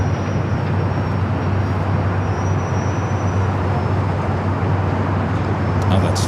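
A Boeing 767-300ER jet bound for JFK at Los Angeles LAX airport gives a steady, loud broadband engine roar with a low hum, continuous throughout with no gaps.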